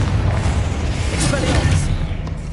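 A Confringo fire spell bursts in Hogwarts Legacy inside a tomb, a dense, roaring, explosive wash of broadband noise with a brief sharper flare near the end, steady and loud throughout.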